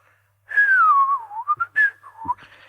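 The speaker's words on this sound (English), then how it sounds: "Butcher started to whistle." Someone whistles a wavering, sliding tune up close, with a long opening note followed by short chirpy phrases.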